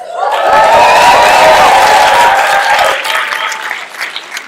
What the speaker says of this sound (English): can you give a big shout, a big clap?